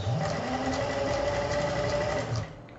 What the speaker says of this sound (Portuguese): Aqui eu posso até aumentar o ponto da minha costura.